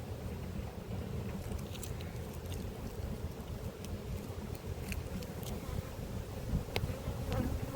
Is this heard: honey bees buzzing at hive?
yes